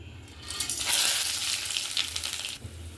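Dried red chillies, small and large cardamom, cloves, a piece of cinnamon and mace dropped into hot oil for chicken rezala, giving a steady close sizzle and crackle that swells and holds for a few seconds.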